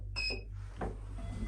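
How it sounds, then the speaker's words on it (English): Pickerings lift at the Riverside Park Hotel in Enniscorthy opens its doors: a brief two-tone chime, then a soft sliding whoosh over a steady low hum of machinery. "Doors opening."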